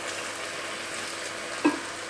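Onions added to a pan with browned chicken sizzle steadily, a close continuous frying hiss with a small clink or stir near the end, no talking.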